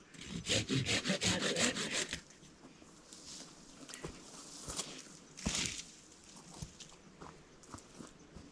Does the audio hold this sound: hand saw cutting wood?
yes